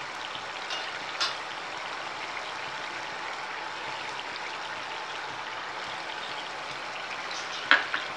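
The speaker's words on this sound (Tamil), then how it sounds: "இன்னும் கொஞ்சம் நேரம் நல்லா கிண்டி விட்டுக்கிட்டுருங்க" Tomato jam with ghee is stirred in a pan, giving a soft, steady bubbling sizzle with faint scraping and a couple of sharp clicks from the spoon, quiet and without talk.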